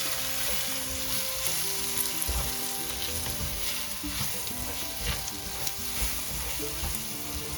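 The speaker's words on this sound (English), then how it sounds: "chili powder, turmeric powder, and salt. And just stir that through." Tomatoes in hot oil sizzle steadily as chili powder, turmeric and salt are stirred through for dhal with kale, a close continuous frying hiss with occasional spoon scrapes and no talking.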